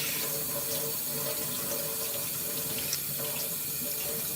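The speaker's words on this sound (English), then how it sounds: "rinse the brush." A paintbrush being rinsed under a running tap in a sink, a steady close stream of water with faint clinks and splashes throughout.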